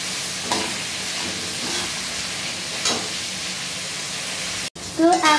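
Onions frying for chilli chicken, a continuous loud sizzle with stirring scrapes, briefly cutting out near the end before a short burst of other noise.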